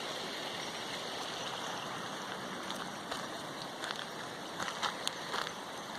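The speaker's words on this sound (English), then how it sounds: "it's just like little streams trickling from everywhere" Small streams of water trickle from many directions around a rock formation near Ribbon Falls in Kananaskis, giving a steady, close, broadband wash with faint splashes and no talk.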